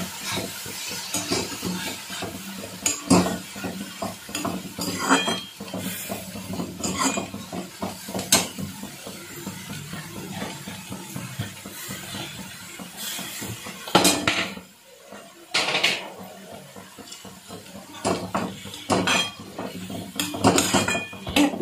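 Mustard greens, onion and tomato being sautéed in a pan for a paratha filling, heard as repeated clinks and scrapes of a utensil against cookware over a low background hiss, with no talking.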